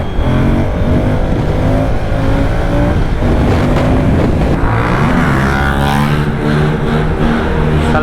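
A Moto Guzzi V100 motorcycle rides through Naples traffic, its engine droning steadily and loud throughout with harmonic revving that rises and shifts in pitch, surrounded by street noise.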